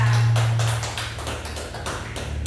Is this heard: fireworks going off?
no